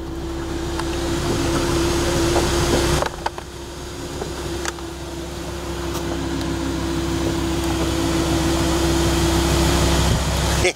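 The convertible roof of a Lamborghini retracting, heard as a steady mechanical whir and motor hum with a low idling drone underneath, and a couple of clicks and a clunk partway through.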